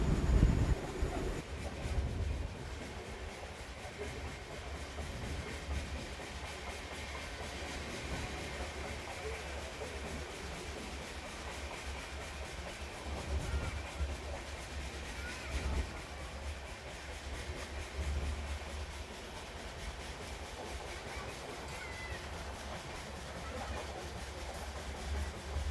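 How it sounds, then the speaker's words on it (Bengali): Steady rumble and rattle of the Tamralipta Express running through Kulgachia station without stopping, heard from on board as a continuous, even roar for the whole stretch. "এখানে ট্রেন আমাদের দাঁড়াবে না"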